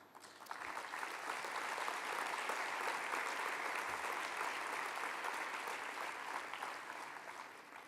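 Audience applause at an award ceremony in a hall, a sustained wash of clapping from many hands that swells in and holds steady before tapering slightly, with no talk over it.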